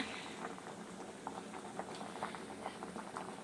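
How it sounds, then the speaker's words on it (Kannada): Drumstick and potato sambar simmering in a pot, with soft, steady bubbling and small irregular pops close by, continuing evenly throughout without any talking. "ಇವಾಗ ಚೆನ್ನಾಗಿ ಕುದೀತಾ ಇದೆ"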